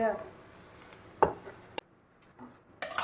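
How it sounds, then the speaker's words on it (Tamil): A spoon stirs sambar powder mixture for sambar, giving a few sparse scrapes and clinks against the vessel amid a faint background with short quiet gaps. "இப்போ நான் இதை நல்லா மிக்ஸ் பண்ணிக்கோங்க அப்படியே இதை சாம்பாரில் ஊற்றிடலாம்"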